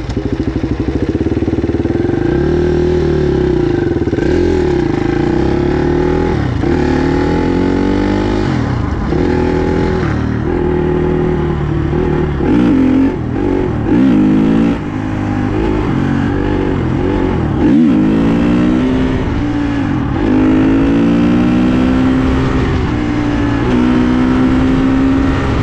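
A KTM motorcycle engine revs loudly and continuously close by, its pitch rising and falling through repeated throttle blips over a steady rough running note, with no talk over it.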